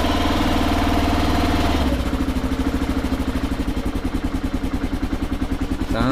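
A 2009 Kawasaki KLR650 motorcycle idling with a quiet exhaust, a steady, close, even engine throb that settles into a clear rhythmic pulse after the first couple of seconds, with no voices over it.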